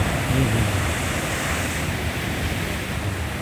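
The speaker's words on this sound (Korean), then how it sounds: "그 파도 소리도 대단하지만" Strong ocean waves crash continuously along the East Sea coast of Korea, a loud, dense roar of surf and wind that fills the whole stretch with no voices.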